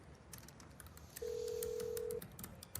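A telephone call being placed gives a single steady electronic tone lasting about a second, clear and close above a faint room background.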